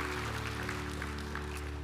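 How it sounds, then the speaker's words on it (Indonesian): A church congregation applauds together, a dense, steady wash of many hands clapping at even loudness throughout, with a low hum underneath. "Berikan tepuk tangan yang meriah untuk Tuhan kita."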